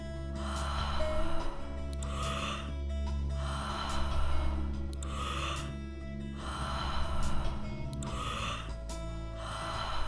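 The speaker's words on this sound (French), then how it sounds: "Inspirez, lâchez prise." Deep Wim Hof method breathing, a series of strong, audible inhales and exhales repeating in a steady rhythm, close and loud over a faint background hum.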